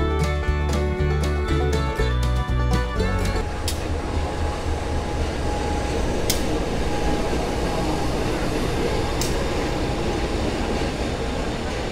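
Kuala Stabas passenger train at Baturaja station, a loud continuous rumble of rolling cars with rhythmic clunks at first, then a steady roar with occasional sharp clicks and a faint squeal.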